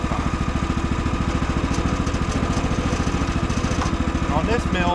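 A small pull-started engine on a portable sawmill runs at a steady, close, throbbing idle, with faint clatter and a voice briefly audible over it.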